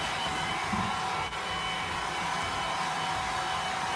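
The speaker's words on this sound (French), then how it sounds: "étant donné que c'est du plastique puis que l'air qui sort, il est chaud, j'essaie de pas les sécher directement trop longtemps" Hot air from a hair dryer blows steadily across plastic terrarium plants, a constant close whooshing roar that holds for the whole span with a brief dip partway through.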